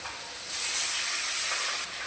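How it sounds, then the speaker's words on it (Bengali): Water splashed into a pan of fried onions sends up a burst of loud hissing steam. The hiss swells after a brief quieter start, holds for over a second, then eases slightly. "এখন হালকা পরিমাণ পানি দিয়ে দিই"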